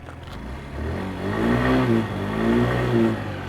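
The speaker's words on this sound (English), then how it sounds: "Starts on the second kick because I am not an experienced kicker." A Daytona Revo 50 fuel-injected scooter engine catches after a kickstart and revs a few times, a nasal buzzing rise and fall up close, heard alone.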